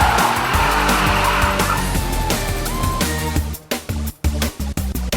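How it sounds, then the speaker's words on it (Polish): An Infiniti G37S engine roars close by, revving hard with rising pitch past 7,500 rpm, then breaks into choppy bursts as the revs cut in and out. "Auto ostro przyspiesza, aż na obrotomierzu wskazówka nie minie 7500 obrotów."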